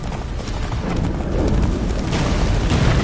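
Roach the horse gallops hard through a blizzard in The Witcher 3, with a rapid, steady pounding of hooves close by under a rushing, roaring wind.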